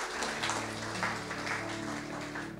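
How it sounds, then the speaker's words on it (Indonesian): A church congregation claps steadily through a worship service, the dense applause running under sustained keyboard chords and a low bass hum for the whole stretch. "Kasih tepuk tangan buat Tuhan."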